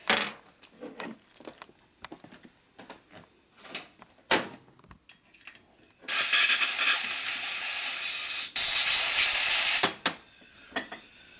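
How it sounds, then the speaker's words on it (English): Compressed air blasting oil out of a Harley-Davidson Twin Cam camshaft part in a machine shop: two long, loud hissing bursts lasting a couple of seconds each, after scattered clanks and taps of handling. "So we blow the oil out of it"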